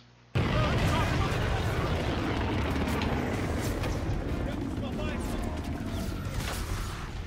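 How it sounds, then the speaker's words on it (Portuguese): A big explosion in the first-person shooter Call of Duty: Infinite Warfare, running at ultra settings, hits as a sudden loud burst and then holds a dense, roaring rumble that fades slowly. "A explosão é foda."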